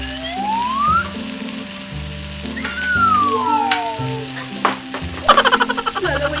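Pork belly liempo frying in a pan as sauce goes in, a steady close sizzle with stirring clatter and a sharp burst of crackling near the end.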